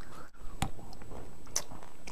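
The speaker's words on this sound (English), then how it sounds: "it has that little crunchiness of the cacao nibs in there" A homemade chocolate bar studded with cacao nibs and a touch of salt is bitten into up close, followed by a few crisp crunching chews and soft mouth sounds, with no talking.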